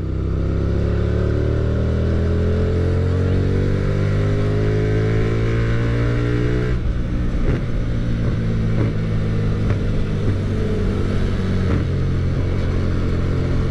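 A Hyosung GT250 motorcycle with a modified exhaust revs up loudly and close, the engine note climbing steadily before dropping into a rough, throbbing idle with irregular pops.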